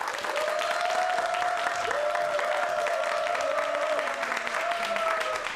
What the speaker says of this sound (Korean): 여기 남자분들이 아주 열렬한 박수로 환영을 해주십니다